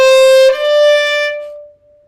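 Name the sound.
violin playing A B C D stepping up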